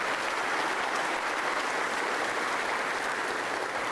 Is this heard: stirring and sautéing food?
no